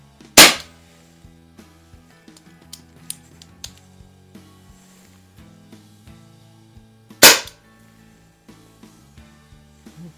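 Two sharp, loud pops from a Crosman model 600 .22 caliber CO2 pellet repeater come several seconds apart, with faint handling clicks and rattles in between.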